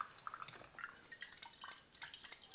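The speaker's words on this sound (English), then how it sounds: "pour water over the filter, and that will get anything out of the paper" Water poured over a paper coffee filter in a glass Chemex, faint close trickling and dripping with soft irregular splashes, quiet and uneven, with no voices.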